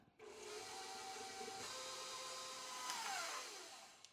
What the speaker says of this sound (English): So now I'm just going to mix.